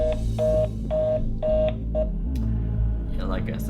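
Touch-tone keypad beeps sound in a quick, even series as a phone number is dialed. A voice talks over them, then the beeps give way to continued talking.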